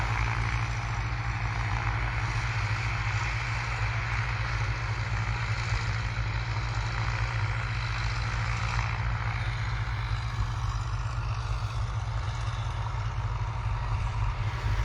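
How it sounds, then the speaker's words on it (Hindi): Tractors driving over standing crops across a wide field, a steady low engine drone with a continuous rumble and idling hum, constant and fairly distant, no talk. "दूर दूर तक जहाँ तक आपकी नज़रें जाएंगी आपको ट्रैक्टर ही ट्रैक्टर दिखेंगे चलते हुए, जो खड़ी फसलों पर इस वक्त चल रहे हैं"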